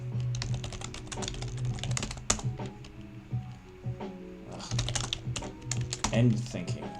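Rapid, irregular keystrokes on a computer keyboard clatter up close in bursts with brief pauses, with occasional quiet speech.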